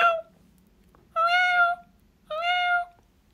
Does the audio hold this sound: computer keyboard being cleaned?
no